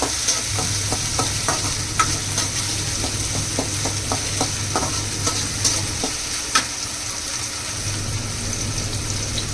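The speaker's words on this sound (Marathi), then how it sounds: "मी बटाटा चांगला भाजून घेऊया" Potatoes stirred and roasted in a pan while cooking a festive Gauri Aagman naivedya meal, with a steady sizzle and repeated scraping strokes of a spoon against the pan, close and continuous, with no talking.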